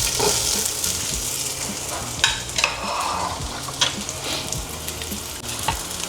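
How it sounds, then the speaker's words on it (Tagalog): Garlic sautés in a pan with a steady close sizzle, broken by several clacks and scrapes of stirring, with no talking. "gasahin natin siya ng siguro mga 1 minute lang. Kasi mabilis mag-brown itong ating garlic"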